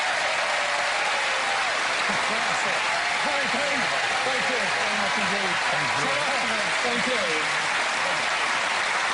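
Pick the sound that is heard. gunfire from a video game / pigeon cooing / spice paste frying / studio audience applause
studio audience applause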